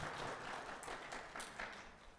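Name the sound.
church congregation applause welcoming visitors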